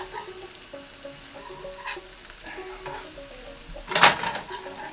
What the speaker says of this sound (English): Look at that bologna getting fried up yummy like